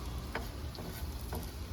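Fry bakes fry in hot oil, giving a steady soft sizzle with a few faint ticks and pops throughout.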